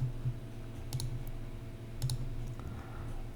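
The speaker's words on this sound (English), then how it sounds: "the mouse decided to double click that and end that" Quick sharp clicks from a computer mouse, in paired bursts spaced about a second apart, close and fairly quiet over a low steady hum, with no talk.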